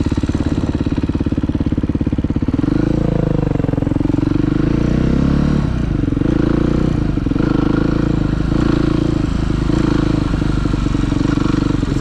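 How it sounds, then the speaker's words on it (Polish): A motorcycle engine idles with a clattering beat, then revs sharply for a clutch-pop wheelie launch, the engine note rising and holding loud and close for several seconds. "Strzał z klamy to jest coś takiego."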